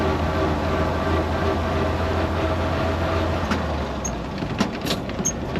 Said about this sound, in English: I am double clutching to get between the gears without any grinds, but it shifts nicely